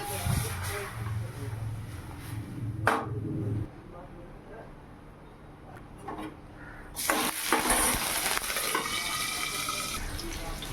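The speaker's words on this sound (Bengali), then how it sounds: "সর্ষে আর কাঁচা লঙ্কা ফোড়নে দিলাম" Mustard seeds and green chilli hit hot oil for a Bengali sour dal, starting with soft kitchen clatter before a loud, bright sizzle surges up and keeps hissing.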